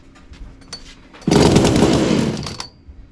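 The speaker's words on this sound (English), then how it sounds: "old school Poulan non-Strato, Poulan 2500 40cc muffler mod." Old Poulan 2500 40cc non-Strato chainsaw with a modified muffler, run on a dyno, gives a loud sustained roar of about a second and a half that begins abruptly and then cuts off, with quieter mechanical noise before and after.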